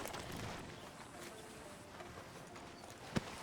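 Horse hooves clip-clop at a walking pace in Red Dead Redemption 2, arriving outside a sheriff's office, a steady muffled patter in the background with one sharp knock near the end.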